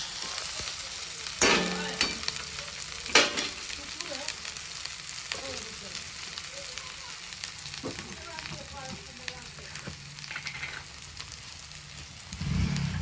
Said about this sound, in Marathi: इथं पटकन मसाल्याला तेल सुटलं जातंय